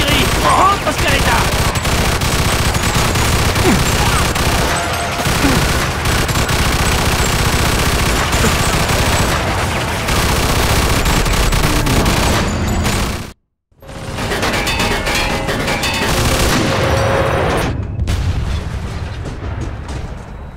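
Heavy gunfire and artillery barrage in the war-zone opening of Mafia II: Definitive Edition, a continuous loud roar of rapid gunshots and booming blasts that cuts out briefly near the middle, then resumes at full intensity.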